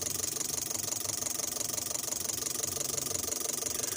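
A non-VVTi Toyota Avanza engine idles at about 700 RPM with an idle control fault, a steady close mechanical hum with a fast, even ticking rhythm and no speech.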